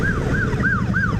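A wailing emergency siren in Kentucky sweeps up and down in quick repeating cycles, loud and close over a low road rumble heard from a motorcycle.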